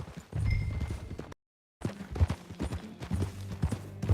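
Hooves of a horse clip-clopping at a walking pace in a Western open-world video game, steady rhythmic thuds that break off briefly into silence before resuming, fairly quiet.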